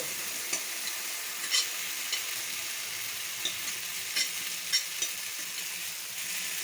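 Oats omelette batter sizzles in a hot pan with a steady, fairly quiet hiss and occasional small pops and crackles throughout, with no talking.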